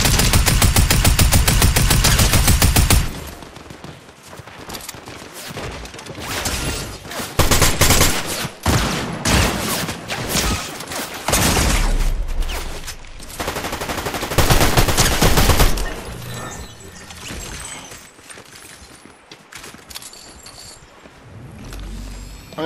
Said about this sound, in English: Bullets flying everywhere.